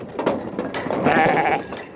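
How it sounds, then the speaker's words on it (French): Heath sheep, an endangered breed, bleat on grassland around an enclosure. One or two wavering bleats come close and clear over quiet outdoor background. "Ces moutons de bruyère, race en voie de disparition"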